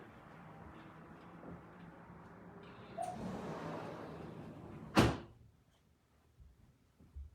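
Somewhere in a quiet room a door swings and shuts with a single sharp thud, preceded by soft rustling and footsteps, then near silence.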